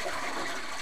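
Steady, loud rush of running water in Minecraft, a broad continuous gushing like a flush or tap pouring without pause, close and filling the whole brief moment with no other sounds.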